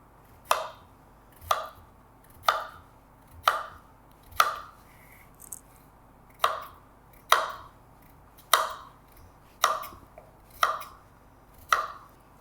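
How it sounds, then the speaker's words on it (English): A knife chops peeled plantains into thick chunks on a board, about a dozen crisp, evenly spaced cuts roughly once a second, close and clear with nothing else over them. "Once your plantains are peeled, you can cut them into nice thick chunks"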